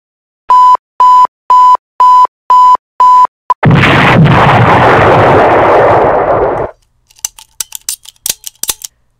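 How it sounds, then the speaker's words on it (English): A proximity mine in a Lego Ultimate Agents game-style scene beeps six times in a steady rhythm, then bursts into a long, loud roaring explosion lasting about three seconds, followed by scattered crackling debris. "A proximity mine. That should do it."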